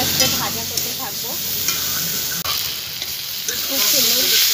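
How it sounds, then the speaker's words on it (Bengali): Mustard paste with vegetable stalks frying slowly in a pan, a close, steady sizzle broken by occasional stirring scrapes and clinks, with no voices. "এটা হালকা আছে 2-4 মিনিট আস্তে আস্তে ভাজা করতে থাকবো।"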